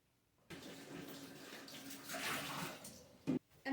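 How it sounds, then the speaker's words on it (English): Tea scooped up by hand and dripped onto paper to age it, a soft continuous watery trickle and splash lasting a few seconds, quiet and close, ending in a couple of small drips. "I can, either with my hand or with a tea bag, scoop up a little bit more tea and just drop it"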